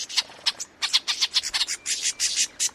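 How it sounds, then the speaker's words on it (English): A mobbing flock of birds gives harsh alarm calls at a spotted predator, a rapid, irregular burst of loud, scratchy chirps and squawks, close and continuous, with no talking. "it perfectly reproduces the alarm calls made by a mobbing flock of birds that has spotted a predator"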